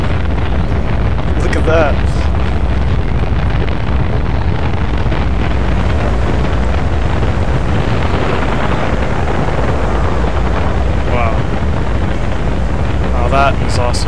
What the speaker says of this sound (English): That's the Launch Arcology liftoff